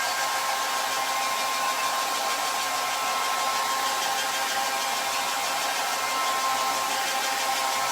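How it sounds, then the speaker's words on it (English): A blow dryer runs continuously at a steady, loud whoosh with a faint whine, close by and unchanging throughout. "We're gonna hit it with the blow dryer"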